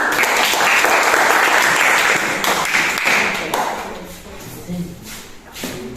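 A room full of people applauding loudly, dense clapping that thins out and fades over several seconds, with scattered voices and shuffling underneath.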